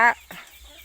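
A chicken on a small farm garden plot with ducks gives a single short, loud cluck, followed by quieter rustling and faint background sounds.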